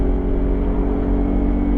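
A Yamaha YZF-R25 motorcycle engine runs at high revs on a normal road, a loud, steady, close drone with strong low harmonics that holds throughout without a break.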